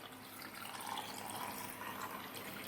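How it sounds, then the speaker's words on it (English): Curried pickling liquid poured from close by over boiled eggs in a jar, a steady splashing trickle that runs on without a break and with no talk. "So then, when you're ready, just pour it over your boiled eggs."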